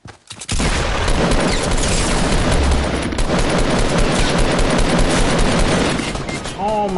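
Heavy, sustained gunfire from a Fortnite battle royale match, dense overlapping shots and booms filling the clip at loud, close range with no pauses, after a brief quiet start.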